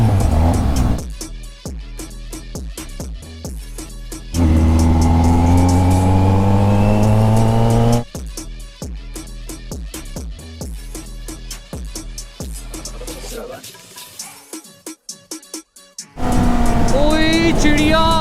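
A Kawasaki Z900 motorcycle on the road roars loudly in sustained bursts as the throttle opens and eases off, with choppy wind buffeting between runs and a rider's voice in places.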